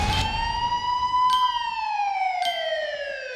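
A loud siren tone holds steady, then slowly rises and falls in pitch, sounding close with no talk over it.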